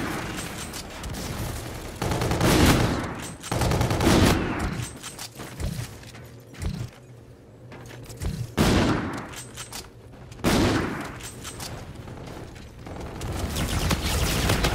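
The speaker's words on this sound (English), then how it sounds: "Enemy bombardment incoming." Heavy bombardment from an enemy assault in Call of Duty: Infinite Warfare: repeated loud bursts of gunfire and booming impacts come in waves, with quieter mechanical clatter between the volleys.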